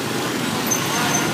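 Street traffic fills a small side street in Hanoi, Vietnam, a dense, steady roadway rumble and hiss with no single vehicle standing out, heard at moderate distance.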